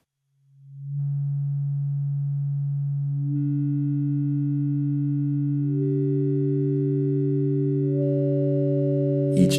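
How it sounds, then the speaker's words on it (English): Pure sine tones from a Xaoc Oradea resonator module self-oscillating as a quad sine oscillator enter one after another, each steady and clean, stacking into a sustained chord that builds in layers before a brief click at the end. "Oradea becomes a quad sine wave oscillator."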